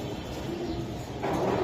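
Giribaz pigeons, a flying breed trained for 70 km distances, cooing softly and steadily at close range over a low background hum, with the sound growing slightly louder near the end.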